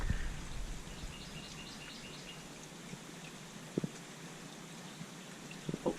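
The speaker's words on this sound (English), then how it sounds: "The rain is starting, so here I am hiding under a dock." Rain beginning to fall, heard from beneath a dock on the water: a steady, soft hiss of drops with a few sharper taps and faint bird chirps in the background.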